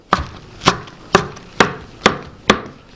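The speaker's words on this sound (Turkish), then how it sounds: "Bunları da biraz iri doğrayacağız." Six sharp knife chops through parsley land on a cutting board at a steady, unhurried pace, close up and crisp.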